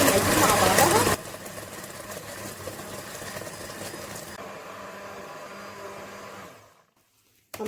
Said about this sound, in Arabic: هنضرب بقى المقادير مع بعضها